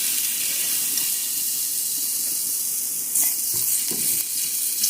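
Crushed garlic drops into a spoonful of very hot olive oil in a pan and gives a bright, continuous sizzle, with a few sharper spits and crackles toward the end. No speech is heard.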